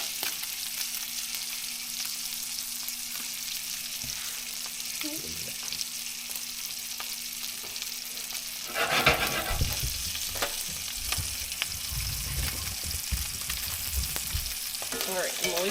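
Garlic and herb trout frying in a pan, a steady loud sizzle throughout with a burst of louder crackling and spattering as the fish is moved partway through.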